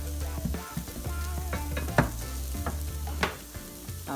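Cauliflower garri pan frying and being stirred, a steady low sizzle broken by repeated scraping and stirring knocks on the pan, close and fairly loud with no talking.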